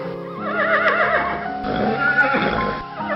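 A donkey brays loudly in a cartoon moral story, a long wavering cry that rises and falls through several cycles, close and prominent with no speech over it.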